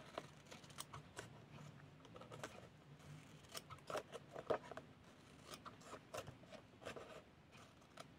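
Scissors snipping through a paper scrapbooking embellishment, a run of sharp, close clicking cuts at an irregular pace with small rustles between, no talking.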